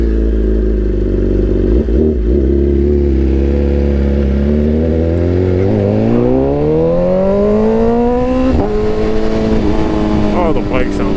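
BMW S1000RR superbike fitted with an Arrow Pro Race titanium slip-on exhaust, revving up close and loud, its engine note climbing steadily in pitch with brief blips and throttle changes.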